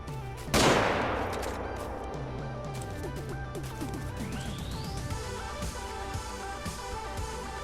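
A rifle fires once at a diamond moose in a hunting video game on a Layton map. The close, loud crack rolls off into a long echoing tail under steady game ambience and music.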